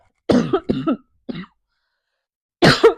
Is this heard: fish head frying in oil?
no